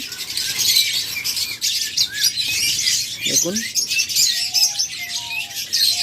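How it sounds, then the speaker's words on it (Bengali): A crowd of diamond lovebirds chirps and squawks nonstop, shrill overlapping calls close by, with a single word spoken briefly over the chatter. "একদম টপ কোয়ালিটি ডায়মন্ড লাভবাট পাখি"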